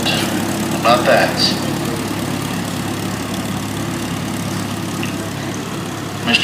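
A 1954 Farmall Super MTA tractor rumbles along in a parade with a low, steady engine drone, and people can be heard faintly chatting over it.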